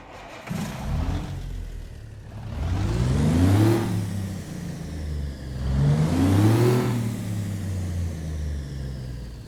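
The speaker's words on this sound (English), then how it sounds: "I am going to be using the Cummins NTC Big Cam engine mod today. I think it sounds really good." A Cummins NTC Big Cam diesel engine in a Kenworth W900 in American Truck Simulator revs up twice, rising through gears with a deep rumbling pull, each climb fading back before building again.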